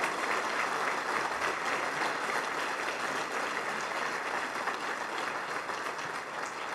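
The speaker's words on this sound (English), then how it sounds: "let's give them a real round of applause" Sustained applause from a luncheon audience for a group of well-behaved students studying Texas history at a pro-life event, a dense steady wash of clapping that holds evenly loud throughout without letup.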